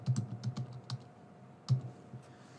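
Someone types a name on a computer keyboard, giving a steady run of close, crisp key taps with brief pauses and one firmer stroke partway through. A faint steady hum runs underneath, with no speech.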